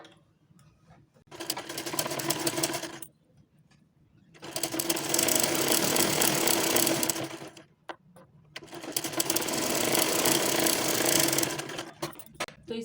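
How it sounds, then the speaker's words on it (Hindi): Sewing machine running in three long stitching bursts separated by short pauses, sewing beside the lining next to a worked panel of a garment, close and steady. "इसके पास से मैं सिलाई चलाऊँगी"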